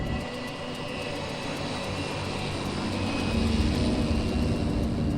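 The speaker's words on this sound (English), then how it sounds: "This is the moment most passengers are paying for, the takeoff. Half speedboat, half plane." A Chalk's Ocean Airways seaplane taking off from the water, its engines giving a loud, steady, broadband roar that swells slightly toward the end, with no voices over it.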